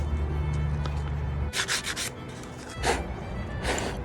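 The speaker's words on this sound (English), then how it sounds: "I'm gonna be sanding very lightly with some 220 grit" Light sanding with 220 grit paper on an antique wooden mortising gauge, several short, close, scratchy rubbing strokes after a brief low hum.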